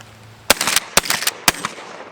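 A Winchester 97 shotgun slam-fired outdoors in wind, three loud sharp blasts about half a second apart, each followed by a short echoing rumble.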